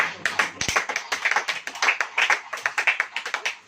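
Congregation clapping hands in a church service, a dense run of sharp claps that keeps steady rhythmic peaks throughout, fairly close and loud with no talking.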